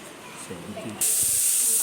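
Pineapple pieces steaming in an idli steamer pot for jam, a steady loud hiss of escaping steam that starts abruptly halfway through, after a brief soft voice in the quieter first half.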